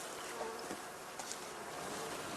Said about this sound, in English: Now it is time for the cleansing flight, during which the bees rid themselves of the excreta from their winter feed.